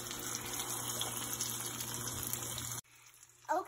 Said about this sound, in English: So we placed the fish. You can hear the bubbles.